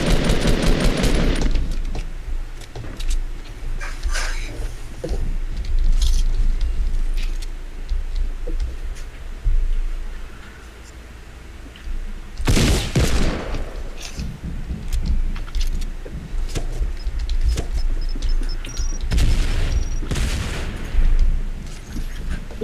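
Gunfire in the Fortnite video game, with bursts of pistol shots cracking loudly and repeatedly across a busy, noisy game soundscape, the heaviest volleys coming around the middle and end.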